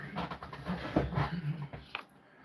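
A big female dog, just let in from outside, whimpers and pants close by in a short burst of breathy, whiny sounds with a sharp yip-like peak near the end.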